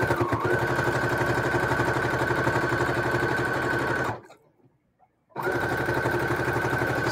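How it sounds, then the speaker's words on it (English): A sewing machine stitches steadily across a pillowcase with a fast, even mechanical whir. It stops abruptly for about a second and then starts up again at the same pace. "So it takes less than 5 minutes to sew across 42, 44 inches, Hudson."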